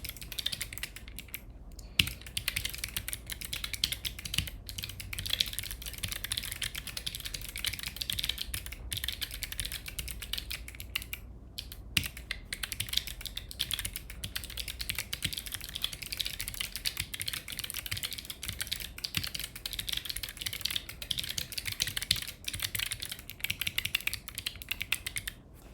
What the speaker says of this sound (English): How's the keyboard sound?